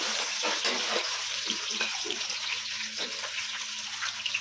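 Chopped onions sizzle and crackle in hot mustard oil, a dense, steady frying hiss with small pops and stirring sounds close by.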